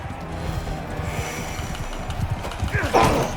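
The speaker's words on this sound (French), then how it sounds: "on va récupérer le canasson." Horse hooves clopping in the medieval combat game Mount & Blade II: Bannerlord, a steady rapid trot under game ambience and battle noise, with a louder burst near the end and someone talking over it.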